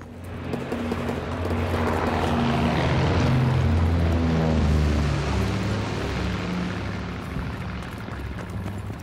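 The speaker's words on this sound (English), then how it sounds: "Enemy recon aircraft in the air." A World War II enemy reconnaissance plane in Call of Duty WWII flies overhead, its propeller engine droning loudly as it builds to a peak and then slowly recedes, with no one talking.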